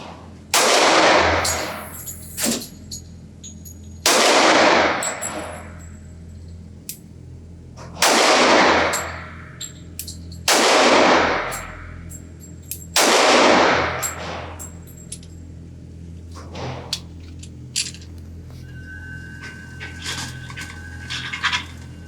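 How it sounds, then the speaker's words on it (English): Five loud, sharp gunshots from a slim Springfield Armory XDs 3.3 .45 ACP concealed-carry pistol at a shooting range, fired at uneven intervals with short echoing decays, followed by fainter clinks and small knocks. "So let's see if I can shoot this thing any better with a second magazine."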